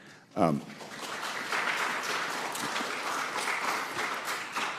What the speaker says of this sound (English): Y'all keep clapping, us politicians just keep talking.